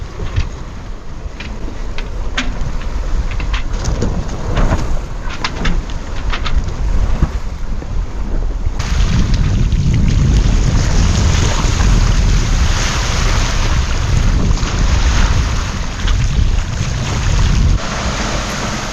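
A sailboat under way down the coast, with strong wind roaring across the microphone and waves rushing past the hull, loud and continuous throughout with a heavier surge in the second half.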